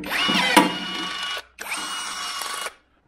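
A power drill bores a hole through the flap of a high voltage box in two loud, steady whirring bursts of roughly a second and a half each, separated by a short pause, then stops.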